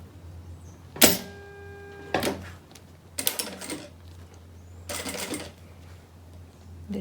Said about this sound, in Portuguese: Vou passar uma costura aqui embaixo.